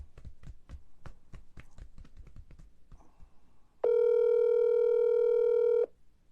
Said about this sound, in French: on attend qu'il prenne le téléphone